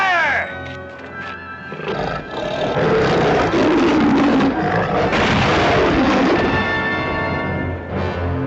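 Gunfire in a western TV episode, sharp loud shots among roaring, chaotic action noise with horses, no clear speech.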